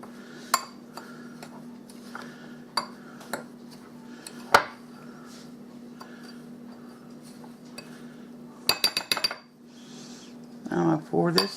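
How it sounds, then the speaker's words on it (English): A utensil scrapes and clinks against a bowl while flour is stirred into cheesecake batter, with scattered light taps over a low steady hum and a quick flurry of clatter near the end. "I'm gonna mix this up some. Get the flour mixed up in there better."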